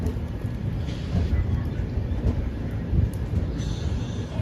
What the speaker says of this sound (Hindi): और अभी सामने से ट्रेन आ रही है।